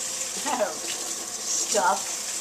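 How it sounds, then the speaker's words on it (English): Tap water runs while corned beef is rinsed in a kitchen sink, a steady close hiss with two brief splashy bursts as the meat passes under the stream. "you're going to rinse off the corned beef, because you don't really want all that stuff"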